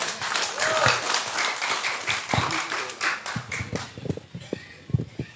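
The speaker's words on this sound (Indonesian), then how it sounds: "Tepuk tangan untuk Bapak Bupati kita." Audience at a talk show with the Sumedang regent in Darmaraja claps for him: many hands patter together in a brisk, steady burst that thins into scattered sharp claps and taps toward the end, moderately close and without speech.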